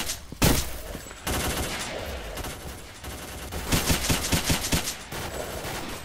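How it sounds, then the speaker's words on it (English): Gunfire in S.T.A.L.K.E.R.: Call of Pripyat with the Misery mod, a loud opening shot followed by sustained rattling automatic bursts and quick single shots, close and dense, easing briefly before a final volley. "Check your weapons and fire."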